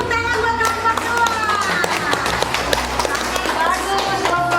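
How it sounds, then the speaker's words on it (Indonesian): An elementary classroom of pupils claps for a student group, a dense, steady burst of many small hands slapping together at close range, with voices chattering underneath throughout. "berikan tepuk tangan buat kelompok dua"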